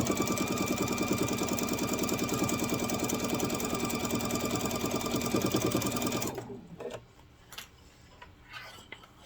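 A sewing machine stitches a grocery bag seam in a fast, steady mechanical whir for about six seconds, then stops abruptly, leaving only faint clicks and handling noises.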